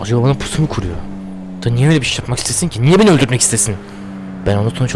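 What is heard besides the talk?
No everyday noises stand out.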